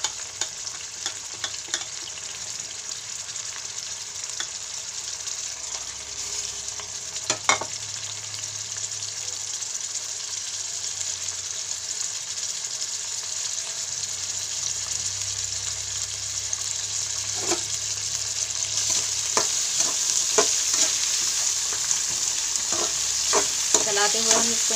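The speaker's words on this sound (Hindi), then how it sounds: "दाल को हमने यहाँ पे मीडियम लो फ्लेम पर ही कुक करना है जब तक ये गोल्डन ब्राउन नहीं हो जाती" Chana dal frying in a pan over a medium-low flame while a spoon stirs it: a steady, even sizzle with scattered scraping strokes, close and alone, with no talking.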